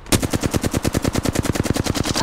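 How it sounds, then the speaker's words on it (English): Automatic weapon fire in the video game Apex Legends, a loud, rapid burst of evenly spaced shots, around twenty in quick succession, sounding close and unbroken. "I think I shot you with most of my bullets."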